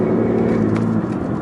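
A 2014 BMW i8 hybrid's petrol engine running while driving on a handling circuit, a steady close mechanical hum and whir inside the cabin with no talk.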